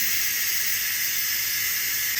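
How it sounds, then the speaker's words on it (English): A pressure cooker venting steam after a quick pressure release, a loud, steady, close hiss that runs the whole time with no break and no talk. "It just went off, so we're going to immediately release all that pressure"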